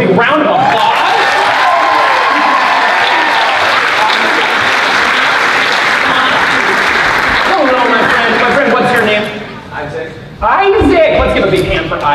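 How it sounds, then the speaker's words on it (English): An audience applauds volunteers called up onstage at a youth improv showcase, steady dense clapping with some cheering that runs nearly throughout, dipping briefly near the end before swelling again, with a voice speaking over it. "Let's give these folks a big round of applause."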